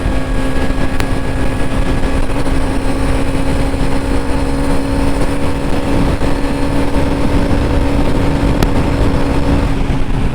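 Husqvarna Svartpilen 250 motorcycle, a 250cc scrambler, pulling hard in fifth gear at highway speed, a steady loud engine drone with constant wind rush and no pauses throughout.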